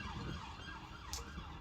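An emergency vehicle siren wails outside at midnight, its rising and falling tone steady and somewhat distant over low background rumble, with no one talking.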